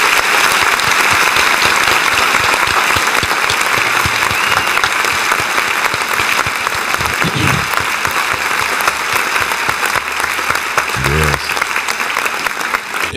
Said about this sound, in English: I think the whole team needs applause.